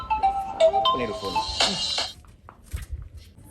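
A mobile phone ringtone plays a short melodic tune for about two seconds in a home setting, followed by quieter rustling and faint voices.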